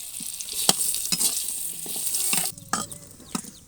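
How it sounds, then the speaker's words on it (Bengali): Kalai bori lentil dumplings fry in oil with a close, bright sizzle. Sharp clicks from the spoon stirring in the pan break through it, and the sizzle eases in the last second. "এই তো বড়িগুলো ভেজে নিলাম, এখন তুলে নিব।"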